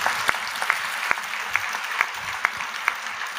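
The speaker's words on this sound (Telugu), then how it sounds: "చప్పట్లు కొట్టి దేవుని మహిమపరచు." Church congregation applause during a sermon, a wash of clapping with several loud, evenly spaced claps punctuating it in a steady rhythm.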